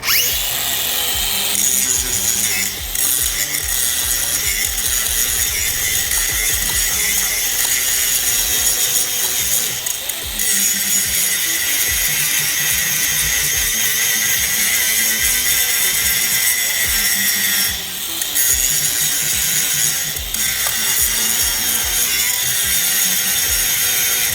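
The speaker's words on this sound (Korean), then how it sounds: "지금 엑스락 그라인더로 야무지게 작업을 하고 있는데" A Bosch GWX 18V-15 SC X-Lock cordless angle grinder grinds down a fresh weld, giving a loud, steady high whine and rasp that runs almost without a break and only dips briefly a few times.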